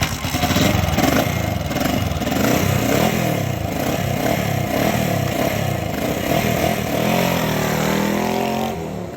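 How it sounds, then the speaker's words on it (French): A home-built motorcycle idles and runs steadily close by at a welding event in Vierzon, a continuous throbbing engine note with a deep pulsing rhythm and slight rises in revs, with no talk. "Je suis venu avec ma moto qui est là."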